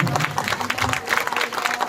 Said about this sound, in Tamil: ஒரு பலத்த கரகோஷம்